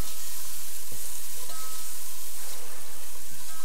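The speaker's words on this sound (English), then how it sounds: "Just give this a little stir." Onions cooking in a pot for bean and tomato soup get stirred, a loud continuous sizzle with faint scraping of the spoon, close up and without speech.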